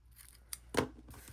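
Scissors snip through a bundle of gold threads for a card, one or two quick, soft cuts close by in near silence.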